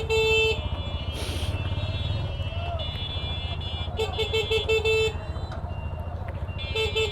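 A jammed road at evening rumbles with idling car and motorbike engines close by, while repeated horn toots and longer honks sound over the traffic from several directions.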